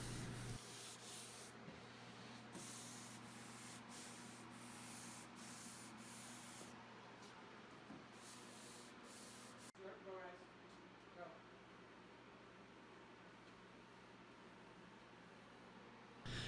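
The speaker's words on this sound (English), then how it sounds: "we are going to do some final detail hand sanding before our last assembly and finishing" Rhythmic strokes of sandpaper rub back and forth across a wooden sleigh bed during final detail hand sanding, close up, then give way to a softer steady hiss.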